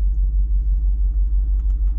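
A Jeep engine runs at high speed in four-low with the gear selector in neutral, a loud, steady low rumble with a faint pulsing throb throughout.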